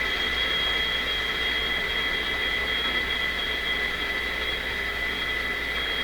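A Supersonic NR 20F5 solid-state radio gives a steady high-pitched squeal while tuning between stations, whining over a constant hiss of static, unchanging and fairly loud, with no voice coming through.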